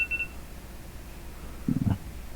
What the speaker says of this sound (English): I got a beep